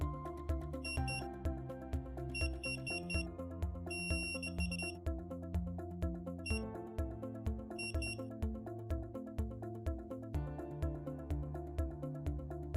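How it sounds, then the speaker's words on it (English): A SATEL security system alarm sounds loudly and continuously, with repeating high beeping tones over a steady droning pulse, no voices. "OK, an alarm has been triggered."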